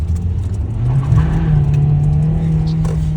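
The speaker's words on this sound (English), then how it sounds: "Insert a clip of us doing a handbrake turn in a parking lot with the e-brake." A 2018 Hyundai Elantra does a handbrake turn in a parking lot, its engine giving a loud, close, steady roar that rises slightly as the car swings around.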